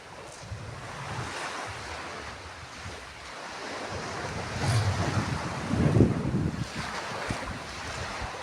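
Waves wash against a shoreline with a continuous surf roar and buffeting wind on the microphone, swelling into a couple of louder breaking surges toward the end.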